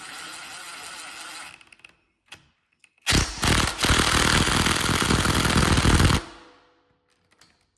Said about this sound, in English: I'm gonna use my impact gun because it's quicker.